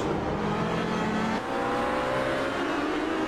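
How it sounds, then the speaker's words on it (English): Race cars on a circuit, several bunched on a short section, roar past close by in a loud, continuous engine drone with a slight shift in pitch midway. "we've got a lot of cars on a very small section of circuit here"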